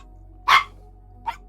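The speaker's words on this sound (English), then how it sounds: "You've been barking too much at me" A dog barks indoors, one loud sharp bark followed about a second later by a shorter, softer one, against a quiet room background.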